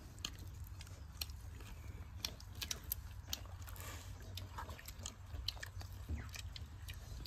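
Someone eats a plate of bread with fried vegetables and roasted white eggplant, soft close chewing and small bites with faint clicks over a quiet rural background hum, no talking.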